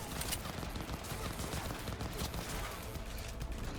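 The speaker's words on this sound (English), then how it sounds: "I hear a lot of gunshots." Dense, continuous barrage of gunfire in the video game Cyberpunk 2077, with overlapping shots and clatter, steady and loud throughout, like a busy firefight with no clear pauses.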